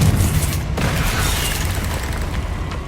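Spell explosions from the Confringo blast in Hogwarts Legacy, a loud booming burst followed by a sustained rumbling roar with no speech.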